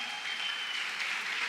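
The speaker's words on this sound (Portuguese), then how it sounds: "vamos dar um forte aplauso a Jesus pelo CCA" A church congregation claps together in steady, dense applause, a soft even hiss of many hands that carries on without a break and without voices on top.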